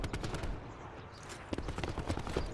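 Rapid game gunfire in Call of Duty: Black Ops 4 crackles in dense, repeated bursts throughout, loud and close.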